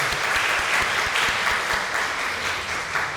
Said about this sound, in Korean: 하나님께 영광의 박수를 드리겠습니다.